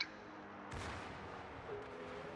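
Heavy naval gunfire from the battleship Colorado in a naval combat video game, a sharp broadband blast that rolls into a sustained, loud rumbling roar lasting a couple of seconds, with no voices.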